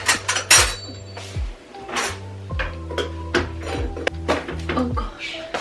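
A knife clanks and scrapes against a metal IKEA baking tin while someone pries at stuck bread, giving several sharp metallic knocks and ringing clinks at irregular intervals, close by, with brief speech mixed in.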